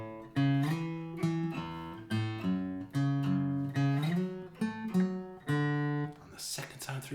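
Acoustic guitar plays a riff at a slow tempo, with bass notes on the low E and open A under the higher strings. Plucked notes ring out clearly and alone, with no voice over them.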